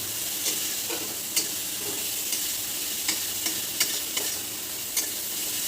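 Onion frying in a pan for fish kalia, a steady, close hiss of hot oil broken by several light clicks and scrapes as it is stirred.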